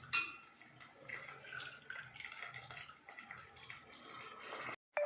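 Chicken pieces soaked in salt water drop into a pan of frying onions, giving a steady wet sizzle with clinks and scrapes against the pan, followed by a short silence and then the sizzle again.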